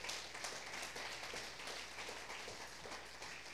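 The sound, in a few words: applause from church congregation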